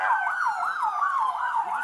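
An ambulance siren wails in a steady up-and-down sweep at a shooting scene on Ferdinand Street, moderately loud and sustained with no speech over it.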